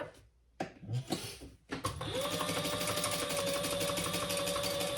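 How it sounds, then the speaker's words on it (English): Sewing machine stitching along the bottom of a crossbody bag: after a few handling knocks and rustles, a steady, close, rapid mechanical whir with a constant stitching rhythm that runs continuously to the end. "you're just gonna sew along that bottom"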